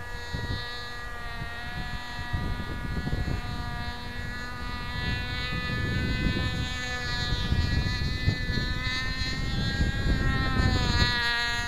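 A nitro-powered AXN model plane buzzes steadily overhead at speed, its small engine a sustained high whine with strong harmonics that swells slightly louder toward the end, with no talk over it.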